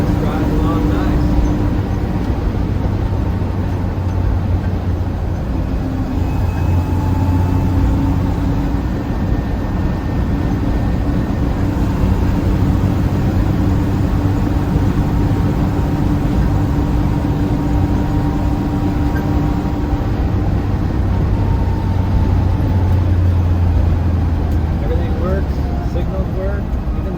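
A 1972 Toyota Land Cruiser FJ40 drives along with a steady, loud low engine drone and road rumble that runs unbroken throughout, with some slight rises and falls in pitch.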